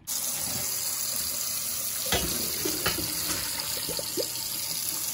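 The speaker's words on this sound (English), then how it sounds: "Pasta water." Starchy pasta water pours steadily into a pot of sauce in a home kitchen, making a continuous close splashing rush with a few small clinks partway through and no speech.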